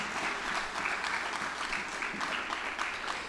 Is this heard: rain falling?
no